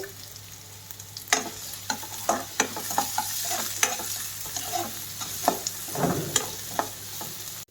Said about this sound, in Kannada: ಹಾಗೆ ಕರ್ಬೇವಿನ ಸೊಪ್ಪು ಕೂಡ ನಾನು ಆ್ಯಡ್ ಮಾಡ್ಕೊತೀನಿ ಇದು ಸ್ವಲ್ಪ ಲೈಟಾಗಿ ನಾವು ಫ್ರೈ ಮಾಡ್ಕೋಬೇಕಾಗುತ್ತೆ